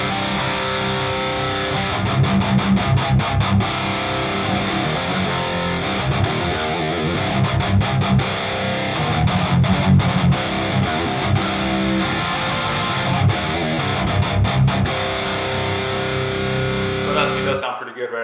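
Electric guitar played through the default amp of the STL Tonality Howard Benson plugin gives a distorted, sustained riff with chugging chords and brief stops, continuous and upfront.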